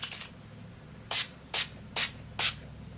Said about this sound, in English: But I think we're good to get some setting spray up in here.